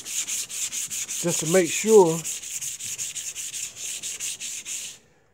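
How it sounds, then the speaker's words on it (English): Steady rhythmic rubbing of wet sanding on a car hood, repeated back-and-forth strokes close up, with someone briefly speaking partway through before it stops abruptly. "that wet sanding help makes it slick."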